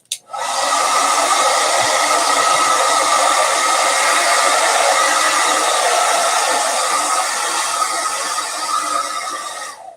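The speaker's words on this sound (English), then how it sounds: "you can't hear anything I'm saying right now because of the blow dryer." A blow dryer runs steadily and loudly for nearly the whole stretch, drying tape and paper on a one-page comic zine, its broadband whoosh starting abruptly and holding constant with no talk over it.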